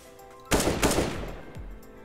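Gunfire in Counter-Strike: Global Offensive, a quick close burst of several loud shots followed by a single fainter report, with no talking.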